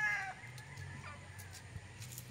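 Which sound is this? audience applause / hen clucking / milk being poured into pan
hen clucking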